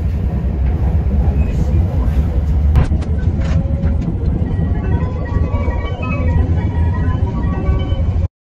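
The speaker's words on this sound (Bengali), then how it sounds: "আমরা ছেড়ে যাচ্ছি এখন সেন্ডাই স্টেশন।" A Japanese Shinkansen bullet train pulls out of Sendai station, giving a steady loud low rumble with rail and wind noise that fills the whole stretch, plus a few brief higher clicks and tones near the start.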